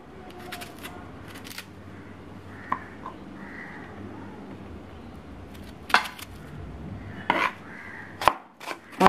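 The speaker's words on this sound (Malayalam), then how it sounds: "ഇനി നമുക്ക് സവാള ഓരോന്നും കട്ട് ചെയ്തെടുക്കാം." A knife chopping onions on a cutting board in a home kitchen while an anchovy dish is prepared, with a steady run of close taps followed by a few sharper, louder chops near the end. Nobody speaks.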